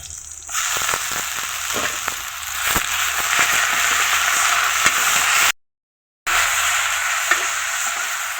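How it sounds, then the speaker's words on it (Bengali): Boiled bottle gourd leaves sizzle and crackle steadily in a hot wok as they are stir-fried, with occasional scraping knocks. The loud, close frying is broken by a brief silent gap. "কড়াইয়ের মধ্যে সিদ্ধ করা শাক দিয়ে দেওয়া হলো"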